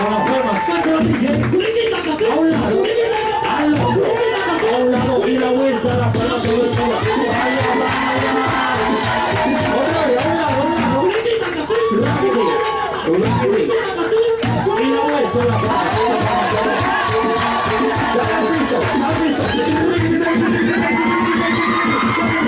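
Crowd on a yacht party boat at San Andrés island, loud rhythmic clapping and cheering with shouts and whoops over pounding music, continuous and close throughout, with voices calling out.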